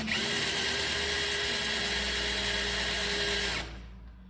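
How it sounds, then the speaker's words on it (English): A power drill with a 1/2-inch bit dimples a metal part on a driveshaft, running loud, steady and close for about three and a half seconds before stopping abruptly, leaving a faint hum. "I'm going to use a 1/2-inch drill bit, mostly so that I can put a dimple in that metal"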